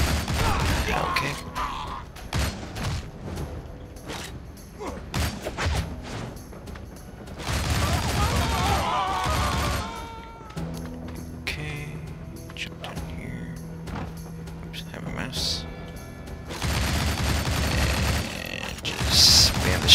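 Bursts of gunfire and mechanical clanks and creaks come from the action video game Shank. They arrive in dense volleys separated by quieter stretches.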